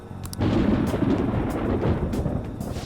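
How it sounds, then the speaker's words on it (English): A deep roll of thunder in Persona 5 Royal swells in after a brief quiet moment and rumbles heavily and steadily for over two seconds, low and loud, with a faint hiss on top. "It sounds like it's going to rain."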